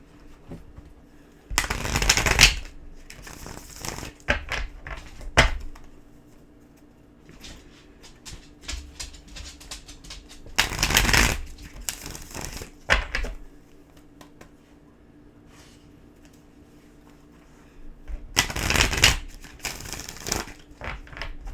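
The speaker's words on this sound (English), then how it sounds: "All right, Virgo, one more shuffle here." Tarot cards are shuffled close up in three bursts of riffling and crinkling, with quieter card handling and pauses in between.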